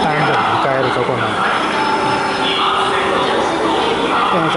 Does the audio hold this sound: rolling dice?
no